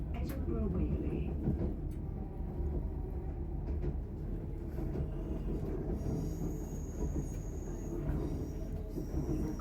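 An LNER Azuma train running on rails, a steady low rumble and rattle heard from inside the carriage, continuous throughout, with a faint high squeal from the wheels in the latter part.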